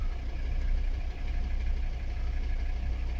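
A Volvo V70/V60 five-cylinder diesel engine idles with a steady, low, throbbing rumble heard close and continuous, with a faint rhythmic knock running through it.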